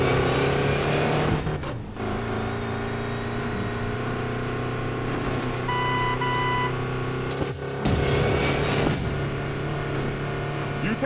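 Racing cars in Need for Speed Payback on Xbox One, with a steady engine drone and tonal whine running throughout, brief dips and bursts as the car shifts and passes, loud and continuous under game music.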